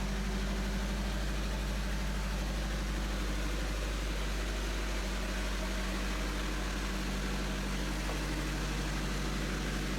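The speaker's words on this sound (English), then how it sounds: "I'm being very careful to position the Land Rover in the right place." A right-hand drive Land Rover engine idles steadily in a cramped garage during careful positioning, a continuous low rumble with no gaps across the whole stretch.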